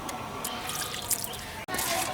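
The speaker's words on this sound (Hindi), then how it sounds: "हाथ को साफ पानी से धो लेते हैं।" Hands are rinsed under clean running water in a home kitchen, giving a steady trickle and splash with a brief break near the end.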